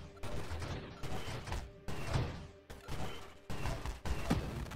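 Volley weapon shots from the space shooter video game Nova Drift, a loud run of repeated bursts in clear pulses about once a second, each with a sharp onset and a short decay.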